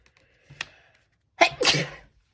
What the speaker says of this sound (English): Now I'm sneezing.